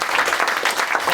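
An audience at a folk club spotlight night gives a short burst of applause, dense and even clapping filling the room.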